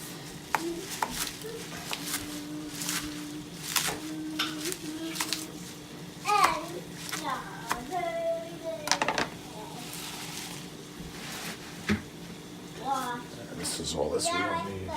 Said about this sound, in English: And we're roughly chopping the kale.